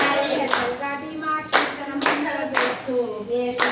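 A group claps in time to a devotional kirtan song chanting Ram's name, with sharp bursts of clapping about once a second over sustained, layered singing voices.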